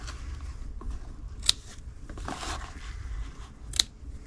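Scissors snip through ribbon in two crisp, close cuts about two seconds apart, set against a quiet room.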